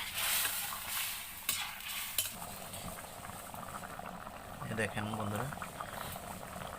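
Chicken curry with chopped onion bubbles at a steady rolling boil in a pot, close and continuous, with a voice talking over it.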